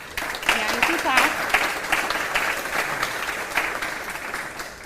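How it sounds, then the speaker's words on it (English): An audience at a county 4-H fashion revue claps for the two judges, with a sustained round of applause and voices speaking over it throughout. "you can clap"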